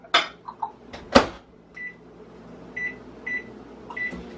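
Microwave oven being loaded and set to heat a breakfast sandwich: a door clunks shut, button presses, a few short beeps, then a quiet hum, all close by and without talking.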